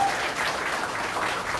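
Brief, moderate applause from an audience at a Liberty Korea Party provincial chapter appointment ceremony, a steady wash of clapping with no talk.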